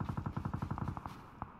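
Rapid automatic gunfire in the battle royale game PUBG Lite fires a fast burst of about a dozen shots, then slows to a few scattered single shots, moderately distant and with no talking.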